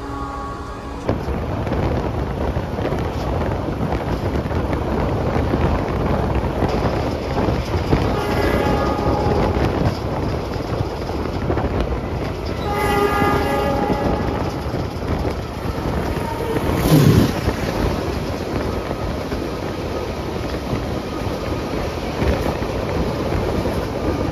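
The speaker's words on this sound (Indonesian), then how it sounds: "Perjalanan kereta api Mutiara Selatan tiba di stasiun Nganjuk teman-teman." Mutiara Selatan passenger train running and pulling into Nganjuk station, a continuous loud rumbling roar with wind buffeting the microphone, a brief screech near the end as it slows.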